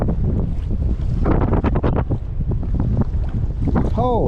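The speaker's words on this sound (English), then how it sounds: "It's like fishing in 20+-mile-an-hour wind." Strong wind of over 20 miles an hour buffets the microphone while kayak fishing on rough, murky water, a loud continuous roar with gusting rumble and some water splashing near the boat.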